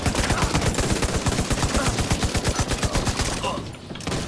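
Gunfire in The Division 2 at the Capitol Building stronghold: loud, rapid repeated shots in a steady rattling cadence for several seconds, pausing briefly before resuming near the end.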